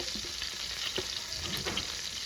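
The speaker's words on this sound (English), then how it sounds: "what I got in this pan already is a stick of butter melting" A stick of salted butter melting in a pan gives a soft, steady sizzle with faint crackles and a couple of light taps, fairly quiet with no voices.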